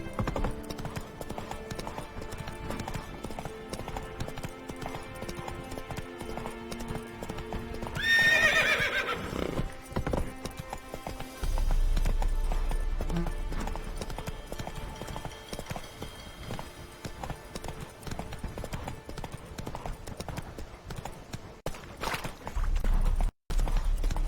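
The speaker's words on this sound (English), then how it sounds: "Run, Roach." Hoofbeats of the horse Roach from The Witcher 3 clatter in a steady galloping clip-clop with a whinny partway through, close and loud over game music and ambience.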